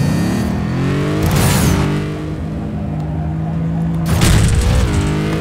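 Jet car in the game Jet Car Stunts, a droning engine hum broken by two loud broadband whooshing bursts as the car lands hard, fairly loud and close.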